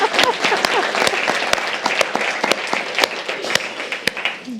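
An audience bursts into steady, loud applause welcoming a panel of luxury-sector entrepreneurs, dense clapping sustained throughout with sharp individual claps standing out.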